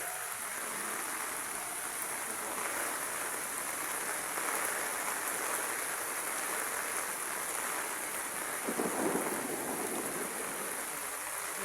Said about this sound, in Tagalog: Lakas ng kulog mga idol. Kumikidlat pa.